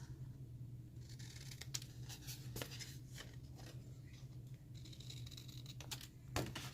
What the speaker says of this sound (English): Need to cut out the tops of your tabs.